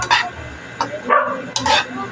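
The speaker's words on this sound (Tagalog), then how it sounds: "Mga supporter ko yan, mga aso na yan." A few short dog barks spaced apart, somewhat distant, over a low background hum.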